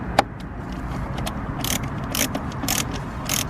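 Clamp screws are loosened with a ratcheting tool under the hood of a Ford Focus RS while a Mountune induction kit is fitted, with clicking ratchet bursts repeating close and moderately loud over light mechanical handling noise.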